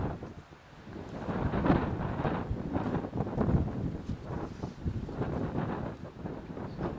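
Gusty gale-force wind on an allotment buffets the microphone in rough, rumbling surges that rise and fall, with no voices.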